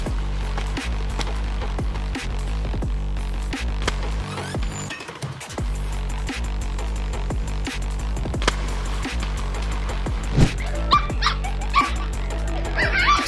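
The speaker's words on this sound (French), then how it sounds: "Ce chiot voulait vraiment être ami avec un crabe." A puppy yips, whimpers and barks at a crab outdoors, a near series of short sharp cries and whines over steady background noise with no talk.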